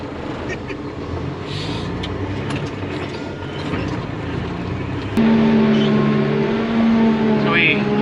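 A forage chopper cutting a fall rye crop, heard as a loud, steady mechanical drone and rumble from inside the cab, with a tonal machine hum that strengthens partway through.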